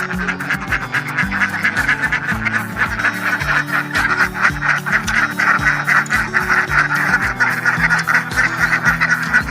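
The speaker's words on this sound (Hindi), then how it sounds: "और इसमें जो है बत्तख है।" A crowd of ducks at a duck house on a poultry farm, continuous loud overlapping quacking and honking up close, a dense steady chorus throughout.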